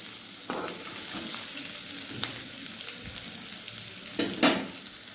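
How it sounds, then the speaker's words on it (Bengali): Chopped onion, ginger and garlic sizzle steadily in a pan as they fry, a continuous crackling hiss with occasional sharper spits and stirring scrapes, close and moderately loud. "পেঁয়াজটা রং এসে যাবে আর আদা রসুনের কাঁচা গন্ধটা কেটে যাবে, ততক্ষণ এটাকে একটু ভেজে নেব"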